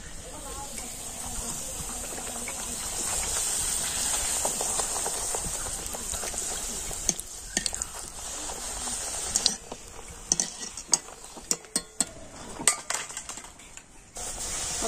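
Fuchka puris frying in oil kept on high heat, a steady broad hiss and sizzle that later breaks into sharper crackling pops and bubbling as the puffed puris are lifted out.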